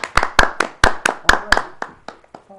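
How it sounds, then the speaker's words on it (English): Audience applause for a speaker at a Toastmasters evening meeting: a small group clapping in sharp, closely spaced claps that stay loud and near, then thin out and fade over a couple of seconds. "we applaud you for your efforts this evening"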